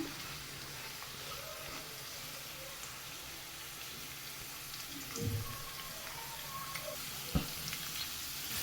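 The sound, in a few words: thinly sliced onion sizzling as it is added to pan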